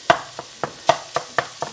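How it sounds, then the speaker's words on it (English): Italian sausage sizzling in a hot pan without oil, with a run of regular scraping stirs about every quarter second, close and fairly loud. "We're frying up our Italian sausage."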